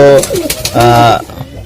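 Two young Bagha-line pigeon chicks give throaty cooing calls, close and fairly loud, in a few drawn-out bursts with short pauses between them.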